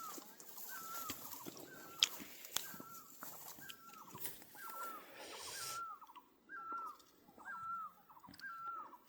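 Repeated bird calls ring out in a forest, a series of short descending whistled notes about every second, moderately near, over a bed of rustling and insect-like background noise with no talking.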